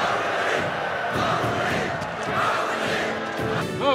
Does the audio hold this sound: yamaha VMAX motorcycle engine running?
no